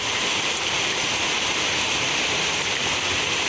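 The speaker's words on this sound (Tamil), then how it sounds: "1 மணி நேரத்திற்கு மேலாக கனமழை கொட்டி தீர்த்தது." Heavy rain pouring down during a thunderstorm in a Tamil Nadu town, a dense steady hiss of downpour drumming on surfaces, loud and continuous with no voices.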